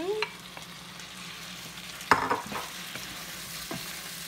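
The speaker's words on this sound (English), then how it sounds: "I'm going to go ahead and add the shrimp back in." Shrimp stirred into black pepper sauce in a pan, a soft sizzle with a couple of clear utensil scrapes and clinks, quiet and close, no talking.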